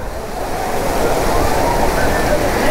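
Mashenlodhi hidden blue waterfall near Warangal, Telangana, running at full flow: a loud, steady, broadband rush of falling water that fills the whole clip without a break.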